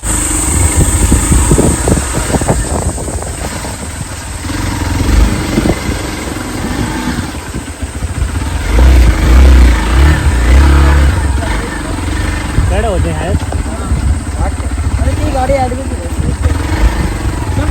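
A motorcycle engine runs steadily nearby, rumbling and idling throughout, with people talking over it.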